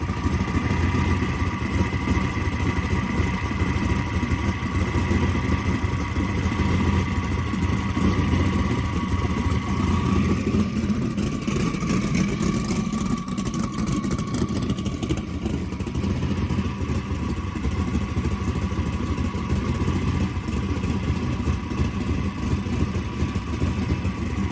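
The engine of a twin-turbo jet boat, running on new plugs with working fuel injection and ignition, holds a steady, loud, continuous idle with a mechanical rumble and clatter, unchanging throughout, with no voices.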